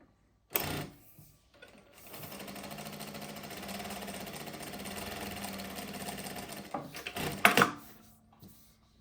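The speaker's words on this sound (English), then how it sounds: "We will now give you a small demonstration of how the machine sews." Jack A5E industrial computerized sewing machine with a large work space sewing a seam, starting with a sharp thunk and running in a steady motor whir for several seconds, then ending with clicks and a thud as the thread trims.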